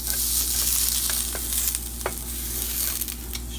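Quorn veggie grilled chicken pieces, brushed with olive oil and golden brown, sizzle loudly and steadily in a pan as one is flipped, with a few soft clicks and scrapes over the constant hiss.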